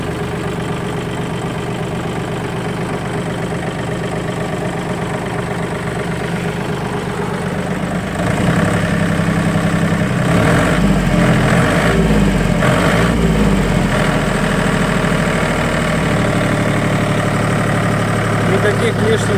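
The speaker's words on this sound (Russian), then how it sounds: "Двигатель запускается с полоборота, работает ровно." A nearly new HINOMOTO tractor engine idles with a steady, even diesel rumble up close. The idle grows noticeably louder partway through and holds there, with faint voices around it.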